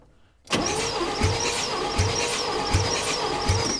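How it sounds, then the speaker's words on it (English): A 1965 Chevy engine with an odd sound from the intake catches after a quiet moment and runs steadily near at hand, a regular low thump repeating about once a second under the even idle. "It's got an odd sound coming through the intake, like there's an intake valve not closing"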